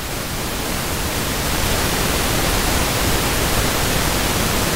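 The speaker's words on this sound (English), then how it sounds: "If I turn up the pink noise," Steady pink noise raised through an Airwindows Slew3 audio plugin, a dense broadband hiss that holds loud and even throughout with no pauses or talk.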